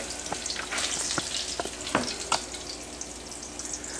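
A roux of equal parts oil and flour sizzles and fries in a pan while being stirred, a steady close crackle broken by scattered scraping strokes and small pops.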